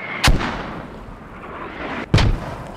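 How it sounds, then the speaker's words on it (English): Mortar fire in the video game Squad: two heavy, sharp blasts about two seconds apart, each with a short rumbling tail, loud and close with no talking. "Mortars!"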